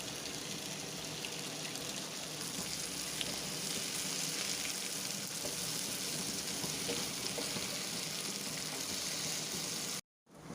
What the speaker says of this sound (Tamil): நம்ம கவலை மீன் நல்லா வறுத்து எடுத்தாச்சு